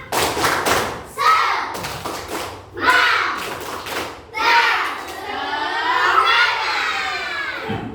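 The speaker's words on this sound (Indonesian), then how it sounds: "Tepuk semangat" A group performs a rhythmic spirit clap as an ice-breaker, loud bursts of unison claps separated by short gaps, mixed with shouting children and crowd voices, ending in a sustained cheering roar.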